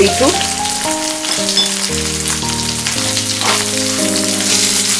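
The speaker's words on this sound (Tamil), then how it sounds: "பீட்ரூட் நல்லா வதங்கிடுச்சுங்க." Beetroot chutney ingredients (beetroot, cumin, garlic, ginger, onion, dried red chillies and tamarind) sauté in hot oil, a continuous hissing sizzle under loud background music.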